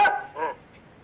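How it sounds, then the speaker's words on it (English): A single dog gives one sharp bark followed by a softer second yelp, close and brief, then quiet low background. "And that's when I saw the dog."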